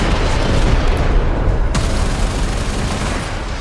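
A cruise ship reactor detonating in Railjack, a continuous roaring blast of dense rumble with one sharp crack partway through, loud and sustained for a few seconds.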